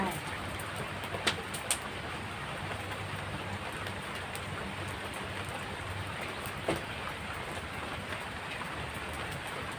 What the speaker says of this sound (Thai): ฝนพำพำกับอากาศร้อนๆ